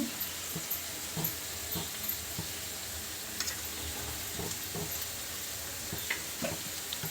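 Jaggery and grated coconut stirred into a simmering mixed-vegetable curry of many vegetables, with a soft steady sizzle and faint scattered clicks of a spoon against the pot, fairly quiet throughout.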